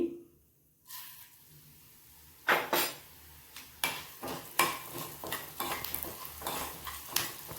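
Dry spices, including urad dal and coriander seeds, are roasted in a pan and stirred with a metal spatula, giving a series of sharp scraping and clinking strokes in an irregular rhythm after a quiet start.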